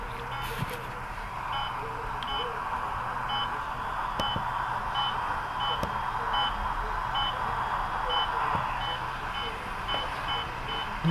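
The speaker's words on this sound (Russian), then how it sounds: "Я думаю, вы уже распознаете работу радар-детектора." On a long drive from Moscow toward Kemerovo, a radar detector inside the car gives off short, evenly spaced high beeps. They sound over the steady road rumble of the moving car.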